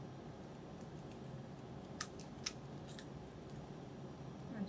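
Scissors snip into a chicken's beak during a poultry post mortem: a few faint, sharp clicks spaced about half a second apart over a steady low room hum.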